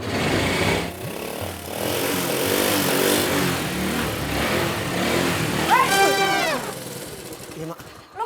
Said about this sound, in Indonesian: Sengaja suara motor digede-gedein?